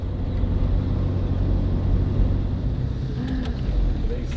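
Tandy the motorhome rumbles along a rough Albanian road, a steady loud low drone of engine and road noise with bumps throughout.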